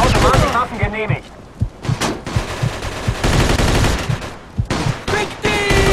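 Automatic weapons fire in the Mafia 2 video game, loud bursts and scattered shots cutting in and out over a busy, dense mix with music and other game sounds.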